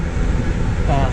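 An electric fan whirs steadily with a low, breathy rumble, continuous and close, giving a soft windy drone for the whole moment, running on a roughly 108-degree day.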